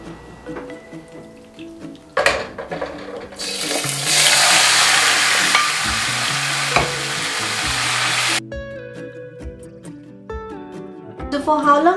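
Chicken pieces drop into hot oil in a pan and sizzle steadily for several seconds, loud and close, under soft background music and clinking.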